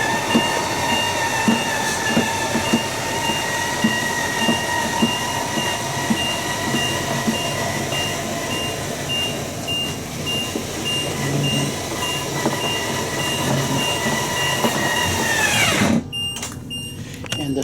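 Motorhome passenger-side slide-out moving on its motor: a steady mechanical hum with tonal whine running continuously for about sixteen seconds, then stopping abruptly, close and fairly loud.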